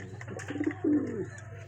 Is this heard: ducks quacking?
no